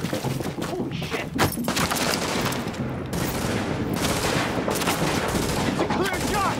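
Gunfire in the video game Tom Clancy's The Division: dense rapid automatic bursts and scattered shots crackle throughout, loud and continuous, with voices calling out over the shooting.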